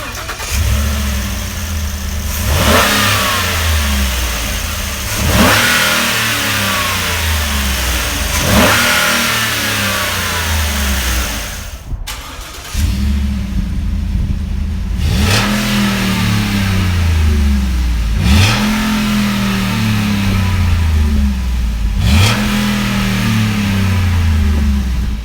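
Two 2018 Ford Raptor pickups with 6.2-liter V8 engines start and rev repeatedly, loud and close, each throttle blip rising and falling in a steady rhythm over a rumbling idle, with no talk.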